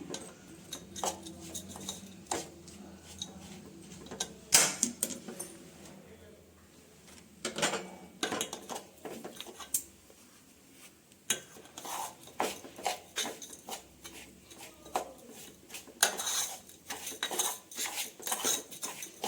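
A spoon scrapes and clinks in a pan while temple prasada is roasted in ghee over a medium flame for laddu, with irregular metallic stirring scrapes, quiet and close.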